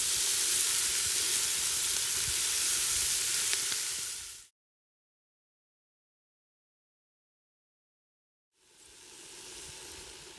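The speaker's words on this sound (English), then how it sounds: "So we're browning the onions, the leeks and the carrots." Onions, leeks and carrots brown in a potjie pot over a wood fire, giving a steady, close sizzling hiss. The sizzle cuts to full silence for about four seconds, then returns slightly softer.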